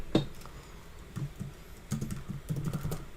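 Computer keyboard being typed on to write code, a few quick bursts of soft clicking keystrokes, close and fairly quiet, with no talk.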